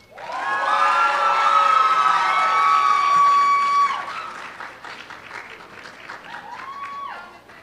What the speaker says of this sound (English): Let's have a round of applause for all of the class of 2022.